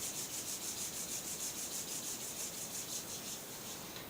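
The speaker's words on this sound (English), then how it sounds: "bring your hands together at the heart center and give them a rub" Palms rub briskly together in a steady back-and-forth rhythm during a short yoga session, a close, soft, continuous swishing with no voices.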